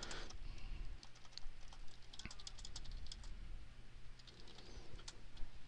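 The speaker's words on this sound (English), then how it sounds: "you can just start typing" Typing on a computer keyboard: rapid, irregular light key clicks at close range over a quiet room, with faint birds cooing somewhere outside.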